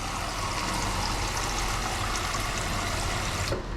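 Water pours steadily into a cooking pot, a continuous loud splashing stream with no talk, cutting off abruptly near the end; Shin Ramen dinner with beef and bok choy being prepared.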